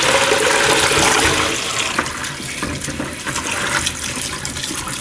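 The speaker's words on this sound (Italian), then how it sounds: "A questo punto la andiamo a sciacquare sotto l'acqua." Potatoes rinsed under a running kitchen tap, a steady loud rush of water that pours throughout, easing slightly after the first second or so, with no talking.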